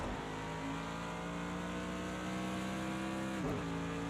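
A Mercedes AMG GT3 race car at Bathurst in Project Cars 2 holds a loud, steady engine drone down the straight, with a brief shift near the end.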